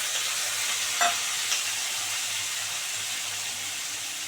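Garlic frying in a pan for a prawn dish, a steady close sizzle and hiss with a couple of brief stirring clinks near the start, no voices.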